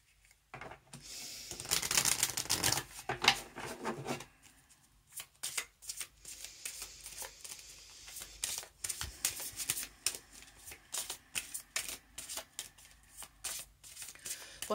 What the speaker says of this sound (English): next we will have a card from the Chakra Wisdom Oracle cards, also by Tori Hartman.